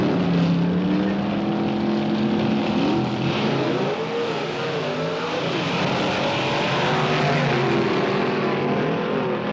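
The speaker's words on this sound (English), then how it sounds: "the car our lead characters drive is a stripped and modified 55 Chevy, in this event getting pitted against a Hemi Cuda." A stripped, modified 1955 Chevy races a Hemi-powered Plymouth Cuda, engines roaring loudly and continuously with rising and falling revs as they accelerate side by side, no voices over the steady drone.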